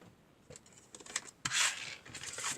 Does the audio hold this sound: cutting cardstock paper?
yes